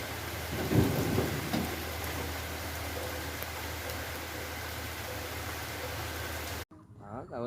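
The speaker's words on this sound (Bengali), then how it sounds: "খুব বৃষ্টি হচ্ছে" Heavy, nonstop rain with thunder during flooding in Karimganj, Assam, a dense steady downpour with a louder rumble early on, ending abruptly near the close.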